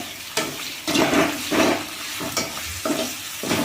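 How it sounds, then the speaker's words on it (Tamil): Egg fries with ground tomato in a pan, giving a steady close sizzle broken by scraping stirring strokes every half second or so. "இது என்ன பொரியல்னா, முட்டை எப்படி வறுக்கிறதுன்னு."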